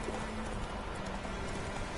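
Horse hooves clip-clopping in The Witcher 3, a quiet steady run of hoofbeats with no talk over it.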